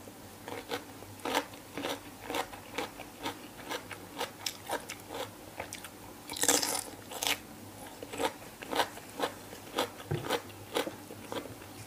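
Crunchy bites into grilled pork tongue, sashimi-style with a spicy dipping sauce and vegetables, heard as a steady run of sharp close-up crunches and chewing at an even rhythm, with one louder burst midway, no talking.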